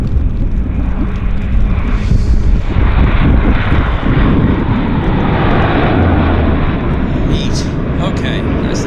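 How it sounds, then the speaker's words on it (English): A Q400 turboprop airliner lands on a wet runway at Vancouver airport, its engines producing a loud, steady roar and rumble that fills the whole stretch close by. "we got a Q400 on approach. Short finals."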